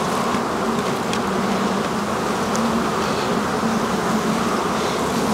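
Honeybees at an open hive during an inspection, a dense, steady buzzing hum filling the whole stretch without pause.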